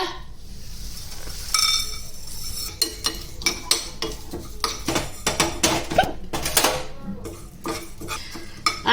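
Whole garam masala spices dry-frying in a pan over medium heat for a prawn pickle, with a burst of rattling as they go in, then irregular spatula scrapes, clinks and metal knocks against the pan.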